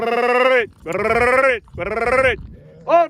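Sheep bleat loudly and close by during shearing at a high-altitude pasture, three long wavering calls in a row and then a shorter fourth, with nothing else heard between them.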